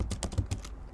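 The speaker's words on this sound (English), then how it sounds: "here typing VSCode" Fast typing on a Mac computer keyboard, close and crisp, with a quick run of about eight key clicks in an uneven rhythm.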